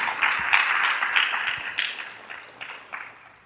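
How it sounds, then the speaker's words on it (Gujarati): Applause from an audience at a Shiv Katha at the Ambaji Dham Shakti temple in Atlanta, moderately loud and sustained, then tapering off over a few seconds with no voices over it. "આ તાળીઓ ભૂપેન્દ્રભાઈ પંડ્યા માટે નથી, આ તાળીઓ પ્રોફેસર ડાયના એક માટે છે."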